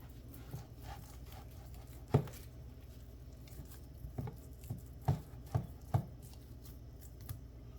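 A knife cuts a piece off a rack of pork spare ribs, working near the diaphragm meat on the back, giving a few sharp, quiet cutting thuds spaced irregularly over a low, steady background.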